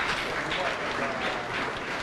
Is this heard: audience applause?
yes